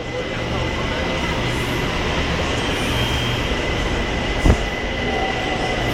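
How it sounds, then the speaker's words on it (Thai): A BTS Skytrain rumbles steadily nearby as it arrives at a station in Thailand, with continuous rail noise and a brief clunk, voices faintly present under the din. "รถไฟฟ้ามาแล้วนะครับ"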